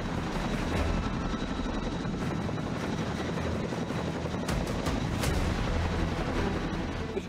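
Greek army helicopters, a Kiowa, Hueys and a Chinook, fly over the Hymettus area in a loud, steady rotor and turbine roar, with sharp thuds and cracks cutting through near the end.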